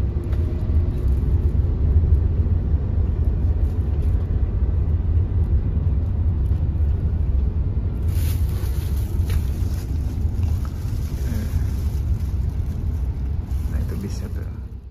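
Engine of a Semeru sleeper bus idling at a terminal: a deep, steady low rumble that runs continuously, with wind buffeting the microphone and faint background noise over it.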